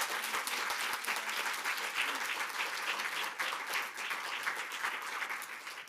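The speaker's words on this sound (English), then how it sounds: "Can we give them a round of applause" A seminar audience applauds the panel, dense continuous clapping from many hands that holds steady, somewhat distant and moderately quiet, for about six seconds.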